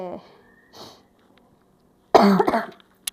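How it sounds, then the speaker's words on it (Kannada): A single short, light cough from someone unwell with a heavy head breaks a near-quiet moment, preceded by a few soft breaths and vocal sounds. "ಸ್ವಲ್ಪ ಲೈಟಾಗಿ ಕೆಮ್ಮು"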